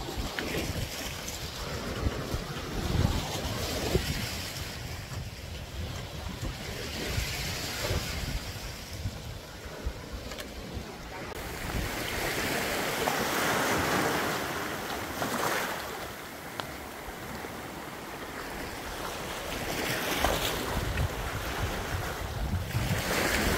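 Rough sea surf rolls in steadily, heavy waves washing and breaking under constant gusting wind that buffets the microphone, a dense, unbroken roar with no voices.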